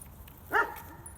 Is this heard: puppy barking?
yes